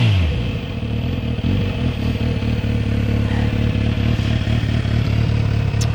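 Kawasaki Z900RS motorcycle engine running loud and close, a deep throbbing idle with steady mechanical clatter and a throttle blip raising the pitch briefly.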